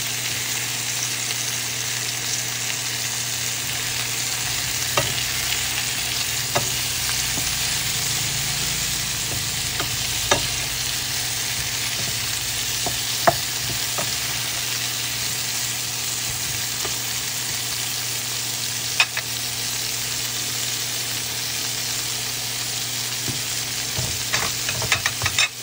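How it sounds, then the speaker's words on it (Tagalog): Chayote sautéing in a pot for chicken tinola gives a steady, close sizzle lasting throughout, with occasional faint clicks of stirring over a constant low hum. "yung akin lang na style is isusutay ko din yung sayote"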